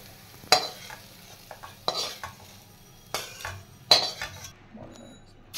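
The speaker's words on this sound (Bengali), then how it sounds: "সামান্য নুন দিয়ে এটা ফ্রাই করে নিচ্ছে" Food stir-fried in a pan with a little salt at home, heard as a low sizzle broken by several distinct scraping stirs and clinks of a spatula against the pan at uneven intervals.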